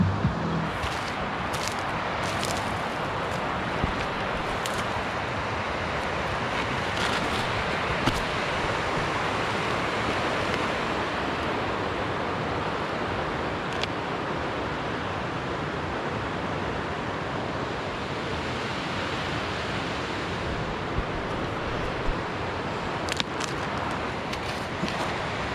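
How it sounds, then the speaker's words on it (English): Noisy flowing water beside a remote campsite in Idaho on a hot day, a steady broadband rush like a stream or river running close by, constant and unbroken, with a few faint clicks and taps over it. "That water's a little noisy right here."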